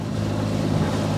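A sailboat's engine drones steadily at close range, a low continuous hum mixed with wind rush, brief and without speech.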